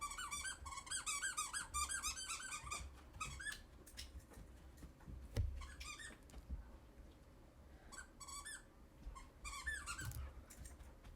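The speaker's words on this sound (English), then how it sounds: "The dogs brought a squeaky toy." A dog plays with a squeaky toy, producing bursts of rapid high-pitched squeaks in clusters separated by pauses, close by against a quiet room.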